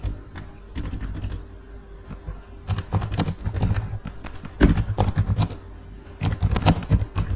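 Typing on a computer keyboard while filling in accounting working papers: quick, close clusters of key clicks in bursts, pausing briefly between runs, at moderate level with no voices.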